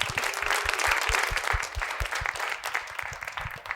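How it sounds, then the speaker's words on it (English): Audience applause at a literary festival panel discussion, a steady burst of moderate clapping from a seated crowd lasting several seconds. "Give a round of applause for our guest, Selina Sheth."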